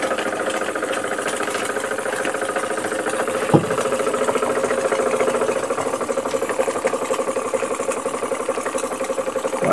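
An old Vierzon engine catches and runs on a steady, rapid mechanical chug with one sharp knock near the start, then holds an even idle throughout without any voices.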